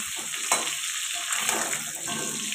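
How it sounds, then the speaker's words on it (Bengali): Potato pieces frying in hot oil in a wok for a mutton and potato curry, a bright continuous sizzle up close with a few stirring clatters, no talking. "আর দেখো এখানে তেলটা গরম হয়ে যাওয়ার পর আমি আলুগুলোকে দিয়ে দিয়েছি, আলুগুলোকে এখন ভাজা করার জন্য।"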